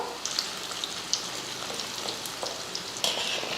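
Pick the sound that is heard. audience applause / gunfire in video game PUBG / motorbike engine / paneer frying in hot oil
paneer frying in hot oil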